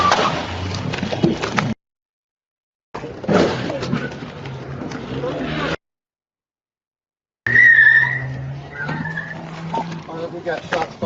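A car skids after being rammed during an ICE vehicle pursuit in Chicago, with a rough engine roar and a brief high tire squeal under urgent shouting voices, broken by stretches of silence.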